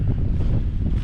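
Strong wind gusts buffet the microphone outdoors during a backpacking trip in Alaska, a loud, steady low roar with no voices.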